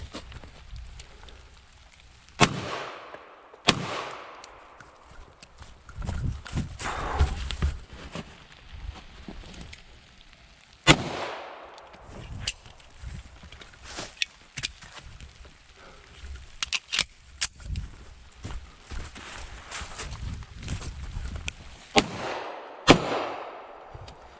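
Sharp gunshots from a Tisas Duty 1911 .45 ACP pistol crack out at irregular intervals, several loud reports spread across a busy stretch of movement and background noise.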